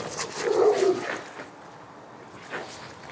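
Two male dogs meeting on a street, with a short whimpering bark and yip up close, followed by softer snuffling and a faint second bark.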